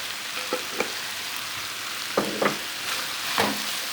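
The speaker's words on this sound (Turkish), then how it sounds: "Güzel karıştırıyorum." Meat and vegetable stew for Turkish etli türlü frying in oil with cumin, pepper and salt, a constant sizzle broken by several scraping stirs of a spoon in the pan, close and clear.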